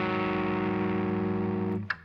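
Distorted electric guitar chord, quiet and sustained with steady ringing, cut off near the end by a brief muted scrape.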